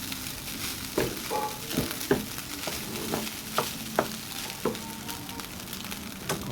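A spatula or spoon scrapes and clacks against a frying pan while fried rice with malunggay is stirred, sharp close strokes repeating about once a second over a steady sizzle.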